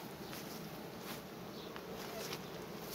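Honey bees swarm and buzz around a hive during the sunflower nectar flow, a steady dense drone with passing individual insects close to the listener.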